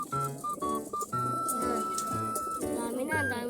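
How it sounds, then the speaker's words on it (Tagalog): Pigeons coo in a repeated, close series of throaty calls in a Philippine setting, loud and steady throughout, with some background voices faintly under the birds. "Ito mga kalapati nila mga kalapatids."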